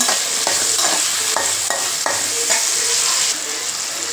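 Onion and tomato sautéing in a pan for chana masala give a loud, continuous sizzle, with rhythmic scraping strokes of a spoon stirring every half second or so; no talking.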